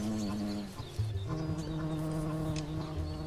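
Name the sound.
European hornets feeding on ripe grapes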